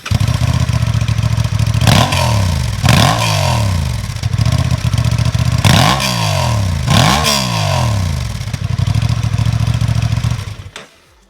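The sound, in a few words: Honda Transalp 750 motorcycle engine and standard exhaust revving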